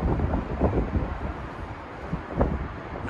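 Gusty wind buffets the microphone on a high outdoor apartment balcony in Southbank, low rumbling bursts rising and falling over a few seconds with no talking.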